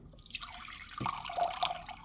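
Room-temperature water trickles and drips into a small glass jar, a soft continuous pour close by with a brief knock midway and faint dripping throughout.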